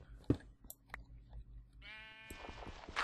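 A Minecraft sheep gives a short series of bleats near the end, a wavering nasal cry that follows a few scattered clicks and soft thuds in an otherwise quiet game scene.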